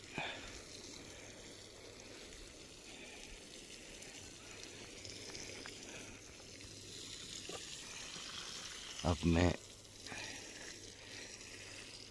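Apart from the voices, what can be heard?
irrigation water flowing in a farm field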